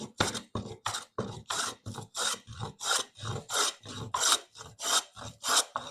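Stanley No. 40 scrub plane taking strokes across a board on a workbench, a steady series of about a dozen loud, rasping cuts in an even rhythm, close up with no talking.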